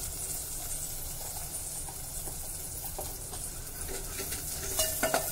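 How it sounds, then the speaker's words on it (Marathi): Red chili powder and asafoetida sauté in oil over a low flame for an Agri-style fish curry, giving a steady close sizzle with light stirring and a few utensil clinks near the end. "1 चमचा लाल तिखट हे सुद्धा परतून घ्यायचं आहे।"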